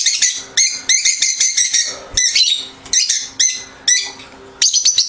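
Lovebirds chirp in loud, close bursts of sharp, repeated tweets separated by short pauses, with no voices.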